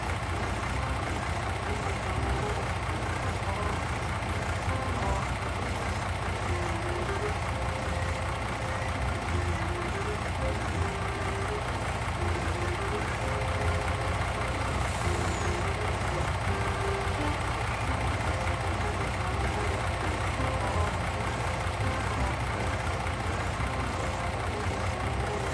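A rice combine harvester engine in Farming Simulator 19, a steady loud low drone with a mechanical rumble that holds constant throughout, with no talk.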